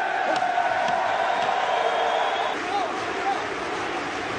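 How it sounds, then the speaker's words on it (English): A fight crowd cheering for a Brazilian referee, a steady roar of many voices with scattered whoops, loud and sustained through the whole clip. "when they announced that the judge was Brazilian, the crowd began to cheer for him"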